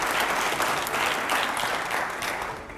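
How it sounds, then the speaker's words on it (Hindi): Steady studio audience applause from a Hindi television debate show, a dense wash of many hands clapping at a constant level that tapers slightly at the end, with no voices over it. "जोरदार तालियां हो जाए पहले तो"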